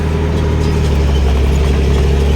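Tractor engine straining as it pulls a cultivator through a field, a loud, steady low rumble that holds without a break from start to finish, with no talk over it.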